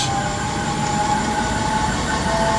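A motor with a loose drive belt runs steadily with a dense, rumbling mechanical noise and a thin, persistent whine riding on top, loud and unbroken throughout.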